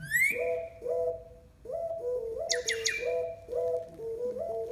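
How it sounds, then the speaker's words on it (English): A recorded blue jay bell call plays as a series of repeated, clear, hollow, bell-like notes with a steady bouncing rhythm, plus a brief rising whistle at the start and a short squawky burst midway, moderately loud. "and a blue jay, the bell call."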